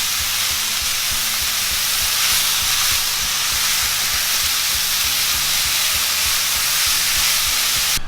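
Bacon and onion frying in a skillet over medium heat, a loud, continuous hiss and crackle of sizzling fat that holds steady throughout with no talking.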